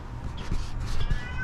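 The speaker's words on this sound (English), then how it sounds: "We got this cat that's just a crying out there." A stray cat cries and meows outdoors, a few plaintive calls at moderate distance over steady background noise, heard alone.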